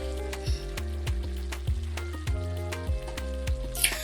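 Tomatoes cook in a kadai for an Andhra-style tomato coriander chutney, a faint steady sizzle with soft repeated ticks and pops, alone without talking.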